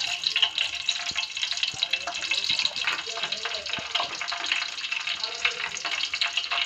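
Whole spices, bay leaf, black cumin, cardamom and cloves, sizzle in hot oil for a North Indian chicken dish; a bright, continuous frying hiss with small crackles and a few soft knocks, a voice speaking over it.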